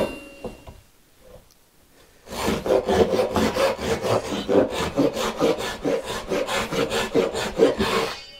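After a short near-silent pause, a thin-bladed Japanese hand saw rasps through wood in quick, even rhythmic strokes, close and steady for several seconds.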